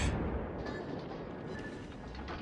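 Warship guns firing in World of Warships, with the cruiser Des Moines in a naval battle, heard as a dense, continuous rumble of distant booms and blasts that merges into a steady roar with no voices.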